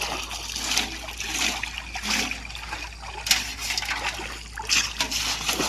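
Pipes are washed in canal water with continuous splashing, sloshing and trickling close by, rising and falling in uneven bursts outdoors.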